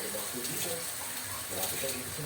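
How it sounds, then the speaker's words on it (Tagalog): Water runs and splashes steadily for a couple of seconds into a cooking pan with sardines, a soft continuous pour at close range. "Lagyan ko ng tubig."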